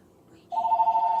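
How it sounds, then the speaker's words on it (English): A telephone rings with a steady, bright electronic tone that begins about halfway through and holds loud and unbroken to the end, following a quiet room. "You hear my phone ringing now"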